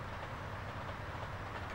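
A train rolls along the rails in the game Arizona RP, a steady, muffled rumble of the moving carriage heard continuously without breaks.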